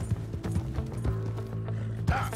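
Horse hooves gallop in a steady rhythmic clip-clop during a chase in Red Dead Redemption II, close and clear under game ambience, with a brief snort near the end.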